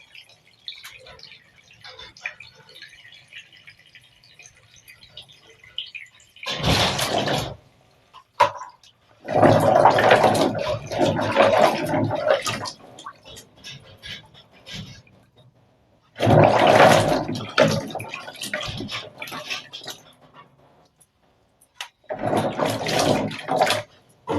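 Water gushes into a pot holding palm fruits for washing, in several loud splashing pours of a few seconds each separated by quiet pauses, close to the microphone.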